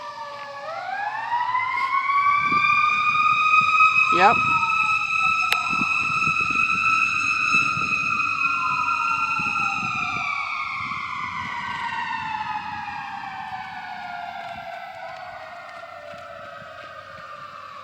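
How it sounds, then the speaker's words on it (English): A fire truck siren wails through a residential neighborhood, swooping up and holding loud before slowly falling and fading as it passes, with a brief spoken word partway through. "Yeah, that sounds like a fire truck."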